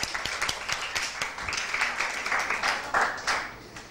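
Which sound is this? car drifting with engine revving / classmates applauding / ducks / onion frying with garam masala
classmates applauding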